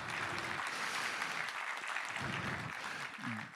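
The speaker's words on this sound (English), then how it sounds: "a huge round of applause for Laurie because it's amazing" Audience applause at a software developer conference talk, a steady dense clapping that fills the hall without a break, with a few louder swells and a faint voice or two underneath.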